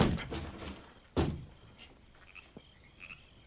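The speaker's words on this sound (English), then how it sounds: "I'll kick open the door." A cabin door is kicked open in a radio drama: a sharp thump and bang followed by a brief creak and faint rattles, close and with no talk over it.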